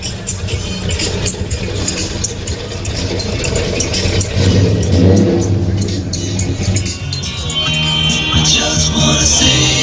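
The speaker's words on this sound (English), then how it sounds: "I'm here with Brian Bell in his 1936 Auburn" A 1936 Auburn car's engine at a classic car display, loud and close, with a throaty rumble that swells into revs and settles back, plus some rattle. There is no talk over it.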